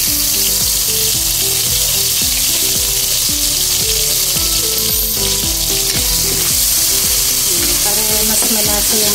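Shrimp paste (bagoong alamang) sautéing with browned garlic and onion, a loud, dense sizzle running without pause, with faint rhythmic clinks of a spatula underneath.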